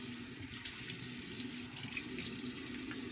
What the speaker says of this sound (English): all I'm going to do is just rinse it